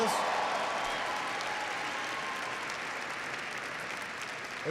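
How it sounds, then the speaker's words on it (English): Sustained applause from a crowd at Boise State during a President Obama speech in Boise, Idaho, a dense steady wash of clapping that fades slightly over several seconds. "give him a big round of applause"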